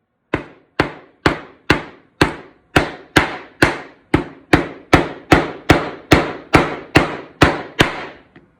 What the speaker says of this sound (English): You're going to put both of them in just like this and then hammer.